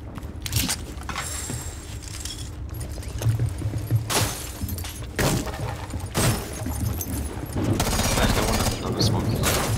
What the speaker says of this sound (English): He was shooting right above me.